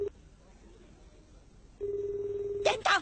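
A cellphone dials a call in an anime episode: a steady electronic tone holds for about a second, then a burst of short, bright dialing beeps follows, with faint background noise before it.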